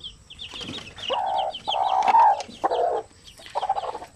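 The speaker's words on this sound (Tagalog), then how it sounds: "So yan yung mga sisiw" Month-old Shamo cross chicks peep in short high bursts while hens or other fowl cluck in rhythmic runs nearby, all on a quiet farmyard background with no talk.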